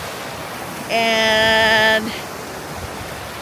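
A creek rushes downhill toward Snow Lake on a mountain trail, a steady broadband wash of flowing water heard close throughout, with a short spoken word and a brief tonal sound partway through.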